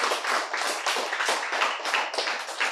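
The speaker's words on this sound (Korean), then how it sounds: "박수" A small group claps together in a lecture hall at a health centre, a brisk, clearly pulsed run of hand claps in quick bursts, close and moderately loud with no talk over it.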